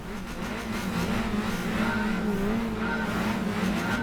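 Race cars in Gran Turismo 5 pulling away from the start line, engines droning and revving steadily and loud throughout, with a faint tire squeal layered over the sustained roar.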